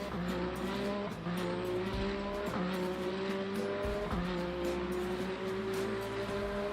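Race car engines drone continuously in the Le Mans Ultimate 12 Hours of Le Mans sim race, with a loud, steady engine note rising and falling through gear changes and braking.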